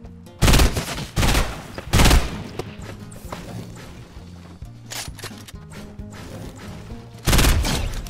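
Loud bursts of Fortnite burst assault rifle fire, several clustered shots near the start, a pause, then another burst at the end, with quieter game noise and background music in between.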